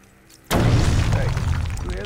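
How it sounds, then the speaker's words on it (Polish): An explosive gel charge detonating in the video game Batman Arkham Origins: a sudden loud blast that follows a quiet moment, then a rumbling, debris-filled tail. "Wybuchowy żelik."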